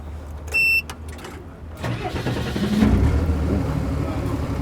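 An automatic off-road car's engine cranks and catches after a key turn and button press, then settles into a steady, close mid-pitched idle following a short electronic beep and clicks.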